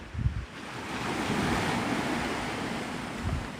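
Ocean surf rolls in steadily at Navarre Beach, Florida, on a stormy sunrise, a broad continuous wash of waves with gusty wind buffeting the microphone and a few low thumps.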